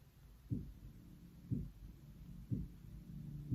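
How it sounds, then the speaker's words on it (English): A slow, deep thumping like a heartbeat, three muffled beats about a second apart over a soft, steady low hum. "Sounds like a heartbeat. That's not relaxing."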